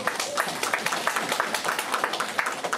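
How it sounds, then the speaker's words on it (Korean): An indoor audience at a Seoul youth policy forum applauds a professor with dense, steady clapping that continues throughout. "알차게 준비해 주신 저희 김진호 교수님께 큰 박수 부탁드리겠습니다"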